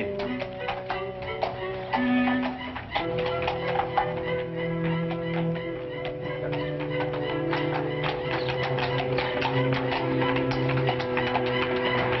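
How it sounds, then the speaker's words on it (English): A horse-drawn carriage rolls in as a radio drama sound effect, with clip-clop hoofbeats and rattling wheels that start softly and grow steadier over a continuous rumbling bed of sound. "here comes the legitimate carriage"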